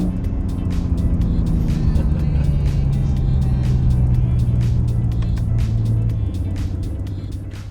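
A Honda NSX hybrid sports car accelerates hard, its engine note climbing steadily in pitch, loud and close, with faint tyre and wind noise.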